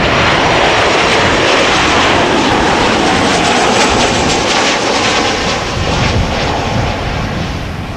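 Airbus A340-600 jet airliner arriving at Schiphol, a loud continuous roar of its engines filling the air with a steady broad rumble and no voices.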